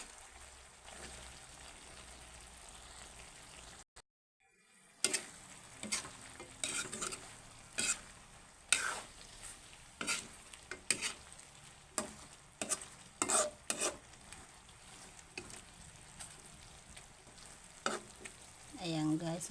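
String beans and moringa leaves cook in coconut milk in a pan. A steady simmer and bubble runs underneath while a spoon scrapes and stirs in repeated sharp strokes after a short silent gap, with no talking.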